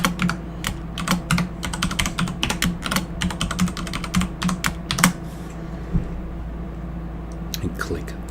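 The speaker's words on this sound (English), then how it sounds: "I'm going to put a password in. So this is going to be my password." Password keys tapped on a computer keyboard while installing Active Directory on Windows Server 2016: a close run of quick, uneven clicks in bursts, pausing briefly toward the end, with no talking.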